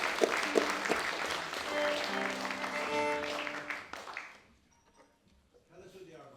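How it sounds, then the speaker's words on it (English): Enthusiastic audience applause at an Irish music festival, a dense burst of clapping mixed with a voice talking over it, then quickly fading away to near silence with a few scattered claps. "give them a round of applause for the first time"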